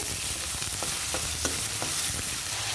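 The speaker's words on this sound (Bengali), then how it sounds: "দেখুন আমি নেড়ে নিচ্ছি ভালো করে" Vegetables frying in white oil in a pan while being stirred, a steady soft sizzle with occasional faint scraping strokes of the spoon, close and fairly quiet, no voices.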